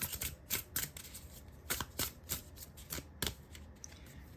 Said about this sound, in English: let's shuffle the cards, see what comes out for you